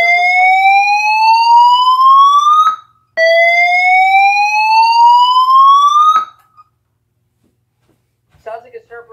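A Federal Signal SelecTone 50D electronic siren sounds its European slow whoop tone: two loud, close rising sweeps of about three seconds each, separated by a short gap, then near silence with faint bursts at the end.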